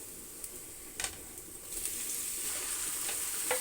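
Meat dropped into a pan of browned onions sets off a loud, building sizzle that swells and then holds steady, with faint stirring scrapes and no voices.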